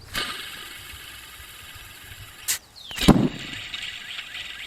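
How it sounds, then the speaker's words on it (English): A continuous metallic whirring and grinding from a loose, rusty car tensioner pulley spinning, broken by a couple of sharp clicks and knocks. "check out how rusty this tensioner pulley was"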